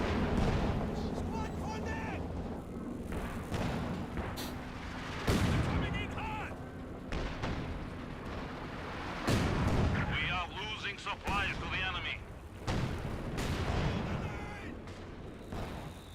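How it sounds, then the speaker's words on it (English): A light artillery barrage in the video game Company of Heroes 2: a dense, continuous roar of booming shell impacts and blasts, with heavier thuds recurring every few seconds over a rumbling battlefield bed. "Another light artillery barrage being summoned"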